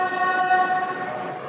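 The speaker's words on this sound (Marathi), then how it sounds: "हॉर्न वाजत आहे आणि ही आलेली आहे BKC साठी फर्स्ट मेट्रो" A Mumbai Metro Line 3 underground train sounds its horn as it arrives at the platform, on the first run towards BKC. One sustained, loud, steady tonal blast lasts the whole moment.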